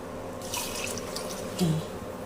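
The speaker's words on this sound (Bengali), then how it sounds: "এই যে পানি দিয়ে দিলাম" Cold water runs and splashes into a cooking pot of khichuri for a couple of seconds, a steady pouring sound with a brief gurgle near the end.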